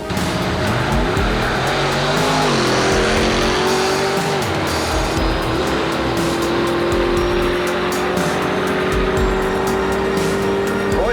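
Drag racing cars at Carlsbad Raceway roar loudly and continuously, with revving engines that rise in pitch and tires squealing, close and alone with no talk.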